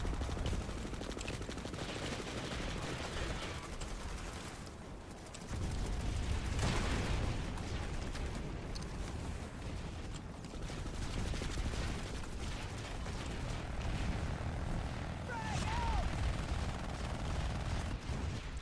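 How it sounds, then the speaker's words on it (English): Chain guns fire in the Planetside 2 video game, a continuous rapid roar of shots and blasts that holds steady throughout at a fairly low, distant level. "Hear my chain guns going off."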